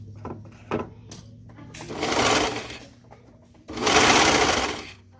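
A sewing machine stitches the waistband of a pair of joggers, running in two loud sustained bursts with quiet pauses and handling noises between them.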